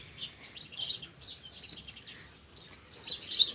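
Sparrows chirp at a nest in scattered bursts of high tweets, a cluster near the start and another toward the end, fairly close with quiet gaps between.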